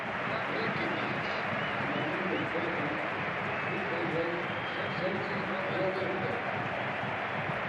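Broad, steady crowd noise from a football stadium crowd applauding a substituted Brazilian fullback during Barcelona vs Celtic, a dense wash of clapping and murmur that is unbroken and fairly loud throughout.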